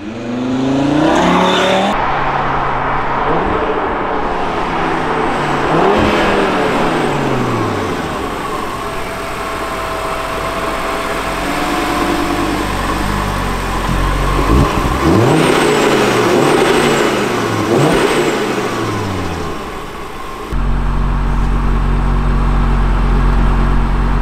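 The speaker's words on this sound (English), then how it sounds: "Right now we're going to do a launch control." A 2022 Audi RS3 sedan with a 400 hp five-cylinder engine roars through a launch-control start, its revs climbing in several rising sweeps broken by sharp gear changes, loud and close for the whole run.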